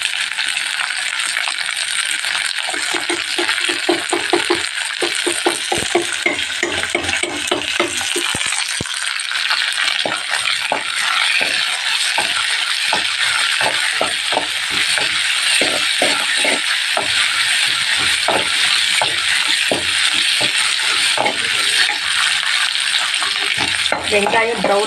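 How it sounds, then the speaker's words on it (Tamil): Onions sauté in a pan for a village-style millet kuzhambu, giving a steady bright sizzle. Frequent clinks and scrapes of a stirring utensil run through it, close and continuous, with no talking. "வெங்காயம் ப்ரௌனிஷாக வதங்கினாதான் குழம்பு டேஸ்ட்டாக இருக்கும்."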